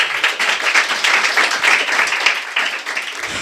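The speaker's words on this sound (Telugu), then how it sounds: "చప్పట్లు కొడతావా?" A church congregation at a Sunday service claps together, loud, dense and steady throughout, with no voices over it.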